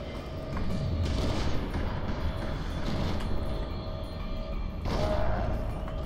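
Gunfire and booming impacts in the shooter game FEAR 2, coming in several loud bursts over a constant rumbling background, with no talk.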